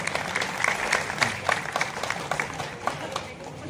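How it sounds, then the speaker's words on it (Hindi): A crowd claps loudly at a Maratha community Shivaji Jayanti celebration in Dhamtari, a brisk, uneven burst of many hands clapping at close range. "जोरदार तालियों से इसका स्वागत हो।"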